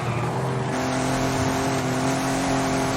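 BMW race car engine in a racing video game on the Jardines handling circuit, a steady loud drone with rising tones as it pulls ahead, continuous for the full three seconds with no talking.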